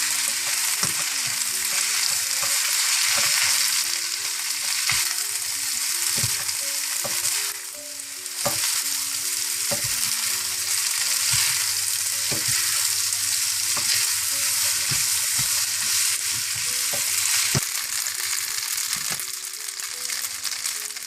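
Vegetable Hakka noodles with vinegar, black pepper and salt are stir-fried in a hot pan, giving a loud, steady, close-up sizzle that runs the whole time, broken by regular scraping clacks of a spatula tossing and mixing.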